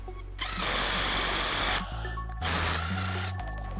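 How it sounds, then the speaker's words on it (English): A power drill turns an eccentric flaring tool clamped in a flaring block on copper pipe, whirring loudly in two bursts with a short pause between as the clutch kicks in, with no talk. "use the drill, notice the clutch kicking in, and do the clasp to free up the block"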